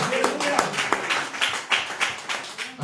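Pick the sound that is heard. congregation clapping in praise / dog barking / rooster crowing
congregation clapping in praise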